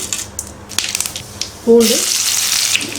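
Mustard seeds hit hot oil at the start of a pumpkin and field bean stir-fry, setting off a sudden loud, steady sizzle partway through after quieter kitchen noise.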